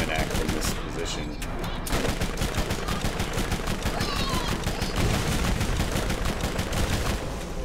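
Rapid automatic gunfire from the video game Borderlands, loud and continuous bursts of shots in a fast steady rhythm that fill the whole stretch, with game effects layered underneath.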